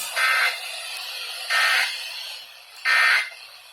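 Three evenly spaced loud electronic alert bursts, each about a third of a second long, from an EAS emergency alert on a NOAA weather radio relay, sounding alone with faint hiss between them.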